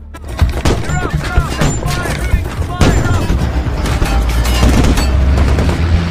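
Heavy gunfire erupts during an ambush rescue of soldiers, dense overlapping bursts and sharp cracks close by, with booming thuds mixed in and voices shouting underneath the shooting.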